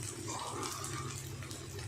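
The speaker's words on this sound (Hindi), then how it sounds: "आधा गिलास पानी डाल रही हूँ मैं" Half a glass of water is poured into a pot of dal gravy for aloo chana dal sabzi. The pour makes a soft, steady splashing and trickling against a low background hum.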